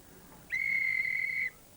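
A single steady steam locomotive whistle blast sounds for about a second, clear and pure-toned, rising out of quiet background noise and then stopping abruptly.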